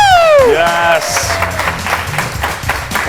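A TV talk-show studio audience claps and cheers over a descending whistle-like sweep and show music, with voices mixed in.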